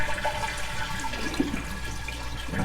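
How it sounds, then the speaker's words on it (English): Water drains out of a toilet tank with a close, gurgling rush, steady throughout and bubbling in places, as the toilet is emptied during a repair. "I'm gonna drain as much water as I can"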